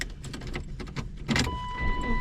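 A 1998 BMW Z3 roadster turns over with a rapid rhythmic cranking, then settles into a steady engine hum with a faint whine, heard close up.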